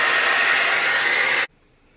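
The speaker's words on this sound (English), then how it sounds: "So I'm just using my hair dryer a little bit." Hair dryer blowing steadily at close range to dry a handmade plague doctor mask, a loud continuous rushing whoosh that cuts off abruptly near the end, leaving near silence.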